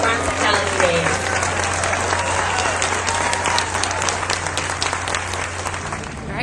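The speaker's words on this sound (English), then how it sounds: "Give a big round of applause for our host family for Farm Technology Days." Steady crowd applause outdoors at Farm Technology Days, a dairy farm event, with dense clapping lasting throughout at a constant loud level and a low hum beneath, mixed with some voices.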